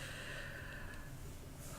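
A single slow, deep breath drawn in close to the microphone, a soft, breathy rush of air that holds steady for a couple of seconds in a quiet room during a calming tapping exercise.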